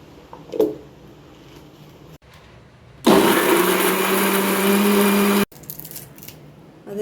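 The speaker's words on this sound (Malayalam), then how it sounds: "ചെറിയ ഉള്ളി, പച്ചമുളക്, എല്ലാം കൂടെ ഒന്ന് ക്രഷ് ചെയ്തെടുക്കാം." A blender roars loud and steady for about two and a half seconds as it crushes shallots and green chilies for a green fish fry masala, framed by quieter kitchen clatter before and after.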